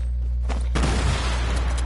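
Grenades blowing up in a video game: a short burst of noise, then a heavier, louder explosion that rumbles on with a broad roar to the end.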